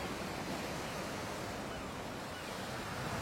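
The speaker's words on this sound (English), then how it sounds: "the landscape has been shaped by the relentless pounding of the waves" Steady roar of ocean surf crashing against coastal cliffs, a dense continuous wash of noise with no voices.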